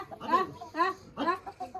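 Hens and a rooster cluck close by at a home, giving several short throaty bursts in an uneven rhythm. A voice may be mixed in with them.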